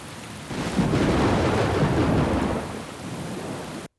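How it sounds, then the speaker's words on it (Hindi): Heavy rain pours steadily outdoors while thunder rumbles low and continuous, a loud, dense wash of sound with no voices that cuts off abruptly at the end. "जूनियर, बाहर बारिश होने लगी है।"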